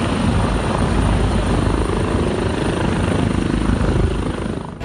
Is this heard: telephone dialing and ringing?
no